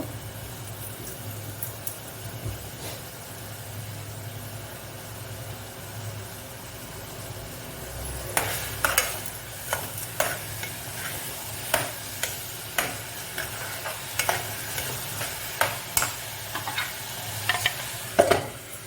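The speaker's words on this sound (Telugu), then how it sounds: "ఉల్లిపాయలు తొందరగా మగ్గడానికి ఉప్పు కూడా వేసుకుంటున్నాను" Onions cook with coarse salt in a pan, giving a low steady sizzle; partway through, a regular series of sharp spoon scrapes and taps against the pan begins, repeating roughly every second until the end; no speech.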